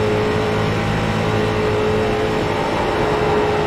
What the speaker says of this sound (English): you can hear that lovely audio of the race car and my spotter.